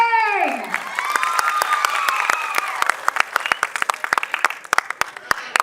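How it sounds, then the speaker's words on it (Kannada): An audience at a movie title and teaser launch event bursts into loud applause, starting over cheers and whoops and thinning into scattered sharp claps. "ಒಮ್ಮೆ ಜೋರಾದ ಚಪ್ಪಾಳೆ"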